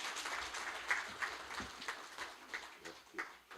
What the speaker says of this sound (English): A round of applause for spearheading this process.